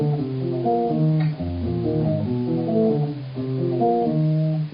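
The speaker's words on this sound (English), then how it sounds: "So there's a lick that can take you a little bit outside and still sound like you're playing very melodic." A clean electric jazz guitar plays a flowing melodic lick of single notes with a few chromatic passing tones, steady and close, with no voices.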